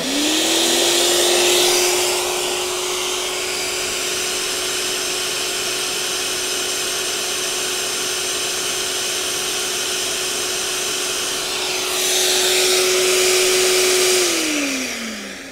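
A disc garden shredder's loud motor whines up to a steady high-pitched drone with a harsh grinding roar, runs continuously, then briefly surges louder before winding down near the end.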